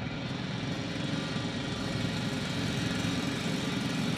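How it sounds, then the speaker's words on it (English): An abandoned drill runs loudly in the sci-fi video game The Invincible, giving a steady, dense mechanical drone with heavy low rumble that stays constant throughout, with no talk over it. "It's a drill. So damn loud."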